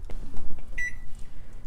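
A single short electronic beep from a microwave oven while cassava couscous (attiéké) is being heated, sounding once, fairly clear, amid light kitchen handling noise.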